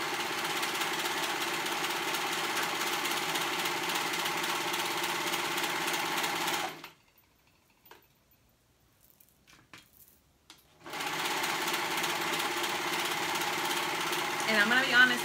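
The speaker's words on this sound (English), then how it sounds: "so we're gonna sew that side together" A sewing machine runs steadily close by as it stitches the side seams of a top, stops for a few seconds, then starts again at the same even pace.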